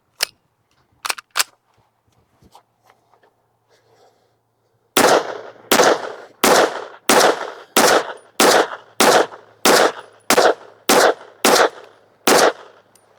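A Walther PDP FS Pro SD pistol fitted with a Strike Micro Comp fires: a few sparse shots, then a rapid string of about twelve loud, sharp reports at a steady pace, close to the microphone.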